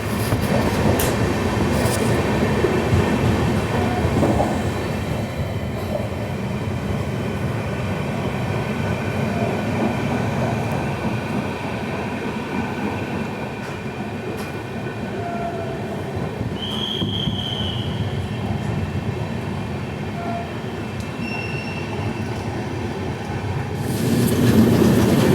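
The Shirdi Mysuru Express rolls along while overtaking another train, a loud continuous rumble of wheels and carriages with occasional faint squeals, and no voices.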